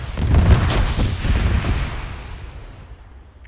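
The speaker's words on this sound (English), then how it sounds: "Grenade gets thrown." A thrown grenade bursts in a video game with a heavy, booming explosion that fades into a rumbling tail over a few seconds.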